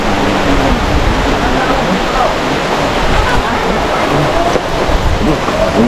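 Heavy rain pours down steadily in the Laguna countryside, a loud, dense, continuous rush filling the whole scene, with voices faintly mixed in underneath.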